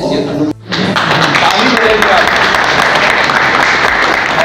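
Loud, dense applause from an audience at a block-level agriculture, animal husbandry and cooperative department workshop, starting after a brief pause and continuing steadily without letup.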